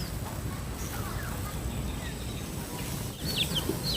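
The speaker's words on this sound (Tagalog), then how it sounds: "May mga naliligaw na sisiw." Chicks stray and peep around a farm in Brgy Cawayanin Ibaba, Catanauan: a few thin, scattered chirps sit over steady outdoor hiss and low rumble, with no talking.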